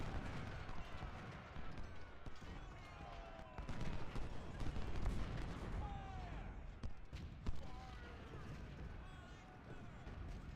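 Massed musket gunfire crackles across a Civil War battlefield in Ultimate General: Civil War, volleys and scattered shots with occasional booms, continuous and fairly loud, swelling in the middle.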